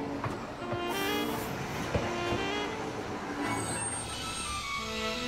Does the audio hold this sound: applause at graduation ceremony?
no